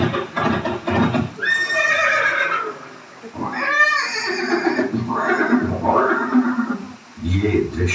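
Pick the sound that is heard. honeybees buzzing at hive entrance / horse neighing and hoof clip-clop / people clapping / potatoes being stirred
horse neighing and hoof clip-clop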